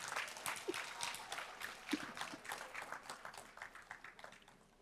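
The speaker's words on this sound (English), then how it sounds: "Let's give this fifth grader a big round of applause." Faint, distant applause from an audience at a school board meeting for a fifth-grade student, a steady patter of many hands clapping throughout with soft murmuring underneath.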